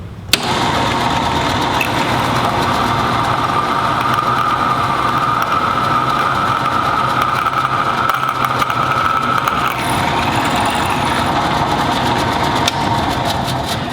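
A drill press running and drilling another hole in sheet metal for a garden trowel, a sustained loud motor drone with a faint grinding edge, a sharp click at the start and a slight change in tone partway through.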